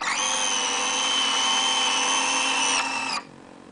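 Servo-driven retractable landing gear and flaps on a Parkzone ME 109 RC plane whine steadily for about three seconds, then cut off abruptly, close and loud with no talk.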